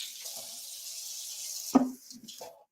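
Food being rinsed under a running kitchen tap, a steady close stream of water that breaks into a few short splashes and gurgles near the end.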